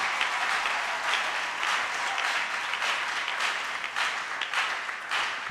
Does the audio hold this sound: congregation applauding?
yes